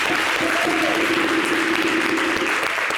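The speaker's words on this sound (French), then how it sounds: "Est-ce qu'on peut applaudir, s'il vous plaît, mesdames et messieurs?" Applause from an audience at a televised show in Côte d'Ivoire, steady dense clapping filling the whole stretch without pause.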